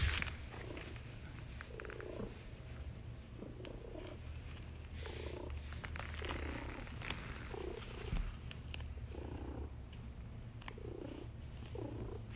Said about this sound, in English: Just purring today?